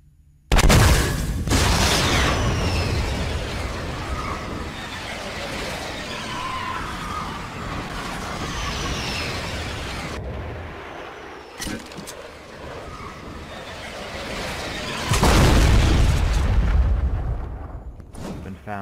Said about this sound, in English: I'll launch one of these rockets out here.